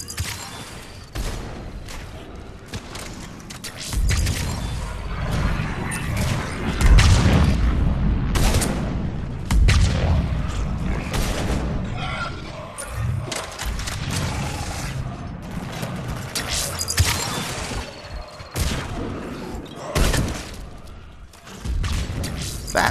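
Gunfire from a Mass Effect 3 multiplayer match, Silver difficulty, with repeated booming shots and mechanical clatter in a dense, continuous burst of battle noise over about twenty seconds.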